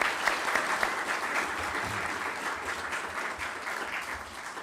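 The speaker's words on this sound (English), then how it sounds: "Please give Chairman Chu a round of applause." An audience applauds a chairman at an event in Arkansas, with dense, sustained clapping throughout and no one talking over it.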